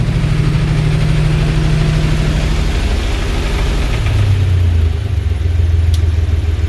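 A boat engine idles on slow revs at a New Zealand seaside, a steady low continuous drone with a shifting pitch partway through, close and alone.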